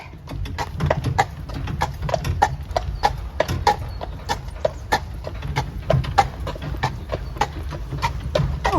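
Hooves of horses pulling carriages in Dyrehaven park near Copenhagen clip-clop in a brisk, steady rhythm, close and clear, with faint outdoor background.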